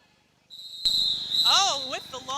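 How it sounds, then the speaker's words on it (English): A roller derby referee blows a long, steady, shrill whistle during a bout, ringing loudly over arena crowd noise while an announcer speaks partway through. "Oh, with the long whistle, that means we're back into action."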